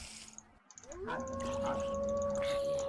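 A werewolf in a modded Minecraft game lets out a long, steady tonal howl that rises and then holds, loud and close, after a few short scuffling sounds, with no talking.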